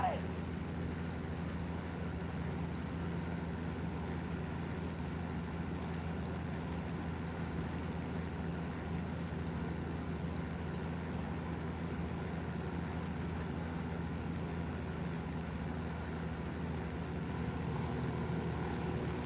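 Propeller plane flown in the video game Ghost Recon Wildlands, a steady droning engine hum that holds at constant loudness throughout, with someone talking over it.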